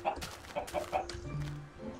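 Minecraft chickens cluck in a few short, quick, bright bursts over a faint low background, close and fairly quiet, with no one talking.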